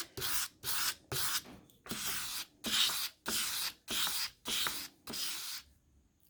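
A saddlery knife stroked across an 800 grit sharpening stone, a rhythmic series of about nine scraping sweeps, each about half a second long with short pauses between, close and clear with no talk.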